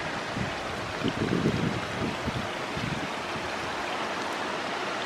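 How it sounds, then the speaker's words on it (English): Floodwater after Hurricane Francine runs steadily through a street in Algiers, Louisiana, a continuous broad rushing wash with some low gurgling, mixed with light wind and no voices. "Yeah, water's flowing real good now."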